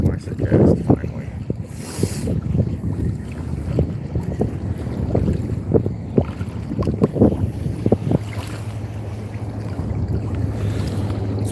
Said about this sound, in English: It's very windy, guys, today.